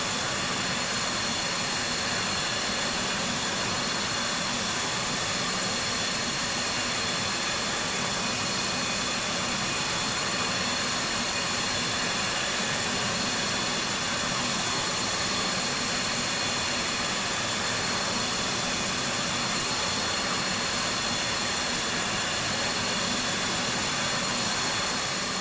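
F/A-18C jet engine running in the DCS flight simulator game: a steady, loud turbine roar with a high whine, continuous and unchanging throughout, no voices over it.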